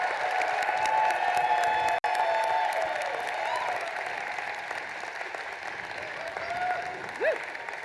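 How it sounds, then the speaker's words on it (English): A large commencement crowd at the University of Illinois at Urbana-Champaign claps and cheers for graduates, broad sustained applause in a big venue with scattered whoops and a sharp bang near the start. "let's do the biggest round of applause yet for these graduates"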